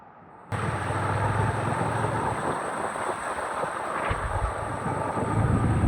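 Strong wind during flooding in Sri Lanka roars steadily and loudly across the microphone. The rushing noise holds constant for several seconds after a sudden start.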